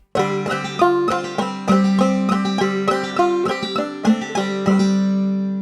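Clawhammer banjo picking the tune Cluck Old Hen, a steady rhythmic stream of bright plucked notes over a ringing drone, close and clear.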